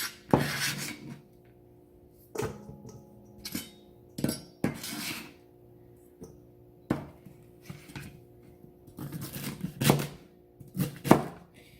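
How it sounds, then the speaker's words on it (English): Celery stalks sliced into half moons with a knife on a cutting board, crisp sharp chops arriving in irregular bursts with quiet pauses between, close and alone without talk. "I do know people that cut their celery stalks in half and then slice their celery"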